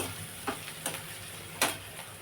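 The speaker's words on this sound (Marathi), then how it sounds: "आपला कांदा चांगला लालसर झालेला आहे" Onions browning in oil for egg bhurji give a steady close sizzle, punctuated by three quick spoon scrapes against the pan, with no speech.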